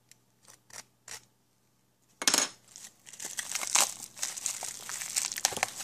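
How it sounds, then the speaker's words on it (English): Circuit boards are unpacked from foam packaging: a few sharp separate crinkles first, then a brief pause and a dense burst of crackling, rustling handling noise, close and fairly quiet, with no talk. "Foam packed in here, and there are our circuit boards and this little piece of plastic."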